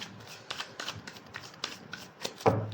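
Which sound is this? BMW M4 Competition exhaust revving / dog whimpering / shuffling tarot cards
shuffling tarot cards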